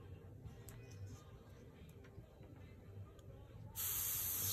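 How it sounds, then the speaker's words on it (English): An airbrush lays a light dusting of paint while airbrushing a lionfish picture: a faint steady hiss under quiet background noise, growing to a brighter, louder spray near the end. "Just put the light dusting on there of the color."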